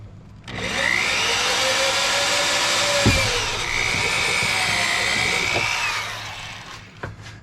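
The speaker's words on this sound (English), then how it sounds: "drill this one out with a little step drill" A power drill fitted with a small step bit drills out a bolt while a Ford truck's power window motor is being replaced, a steady close whine lasting several seconds with a brief knock midway before spinning down.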